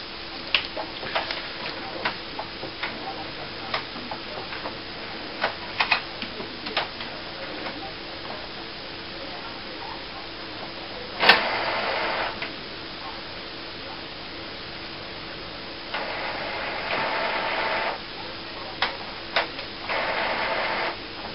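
An Epson SX215-series inkjet printer runs its power-on setup with no ink cartridges fitted, producing soft mechanical clicks and ticks, a sharp clunk midway, then stretches of steady whirring carriage motor noise, close and moderately quiet.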